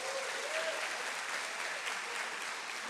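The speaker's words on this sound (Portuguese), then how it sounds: "Dá uma salva de palmas para ele." A church congregation claps for the preacher: dense, sustained applause from a crowd that holds at an even level for the whole stretch, heard alone without talk.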